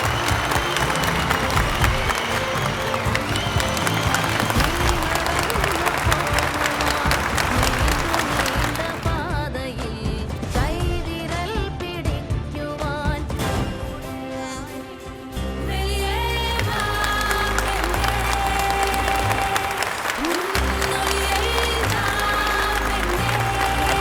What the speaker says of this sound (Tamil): கைத்தட்டல் சத்தம்,